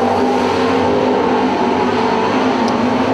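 Sprint cars race close by, their engines a loud, continuous roar that holds steady throughout.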